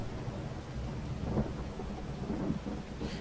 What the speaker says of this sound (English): Showing that it was raining the whole time